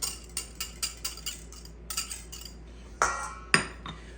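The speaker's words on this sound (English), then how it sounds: "in a separate bowl, we're gonna mix our wet ingredients" Wet ingredients of vanilla bean paste and eggs being mixed in a separate bowl for apple fritter batter: quick, regular clinks of a utensil against the bowl, then two sharper, louder knocks near the end.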